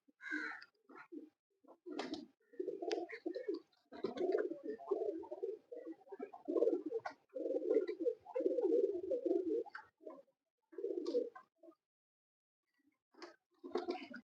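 Champion racing pigeons coo in a series of soft, throaty low bursts close by, pausing between phrases, with a few faint higher bird calls in the background and no talking.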